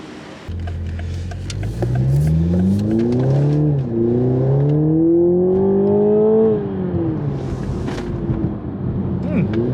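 A Toyota Supra pulls away on a test drive, its engine note climbing through the revs, dropping at a gear change, then rising again before easing off. The engine is heard clearly from inside the car.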